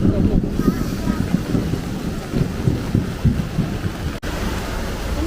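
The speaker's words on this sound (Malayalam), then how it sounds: "നല്ല ഇടിയാണ്" Heavy rain pours with thunder during a storm, a loud constant roar broken by deep, swelling rumbles throughout.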